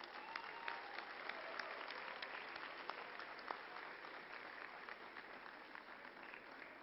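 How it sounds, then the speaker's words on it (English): Steady applause from a commencement audience honoring graduates, a dense, continuous wash of many hands clapping at moderate loudness, heard from a distance in a large hall with no voices over it. "And I think graduates deserve a big round of applause."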